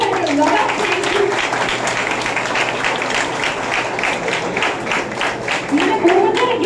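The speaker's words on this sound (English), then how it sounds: "So huge round of applause and a lot of thank you." A crowd at a youth summit claps for the dignitaries, steady, fairly loud applause with a voice speaking over it throughout.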